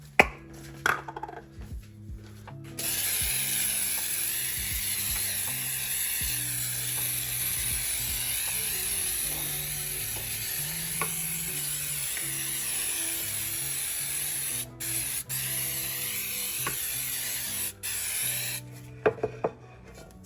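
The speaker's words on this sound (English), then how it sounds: "I'm going to start by generously spraying with Baker's Joy." Baker's Joy baking spray hisses in a long continuous burst over a cake pan, steady and fairly close, with soft handling clicks and taps before and after, and a faint background hum underneath.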